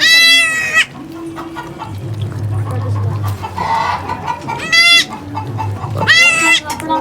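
Beetal goat with two newborn kids on a farm, loud near bleats repeating in short bursts against low murmuring background noise.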